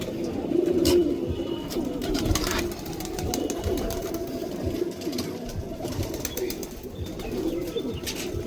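Soft, overlapping cooing of silver-coloured pigeons kept by a fancier in Malihabad, a continuous murmur of nearby calls with faint rustles and flutters and no speech.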